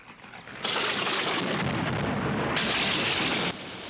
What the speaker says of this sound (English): Oh, explosion! I like me some explosions in there.